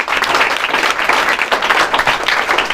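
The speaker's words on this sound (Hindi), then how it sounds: "छात्रा गुड़िया, है ना, काफी जोरदार तालियों से स्वागत कीजिए इनका भी।" Loud, dense applause from a crowd welcoming a student at a 12th-grade honoring ceremony, many hands clapping steadily and close for the whole stretch.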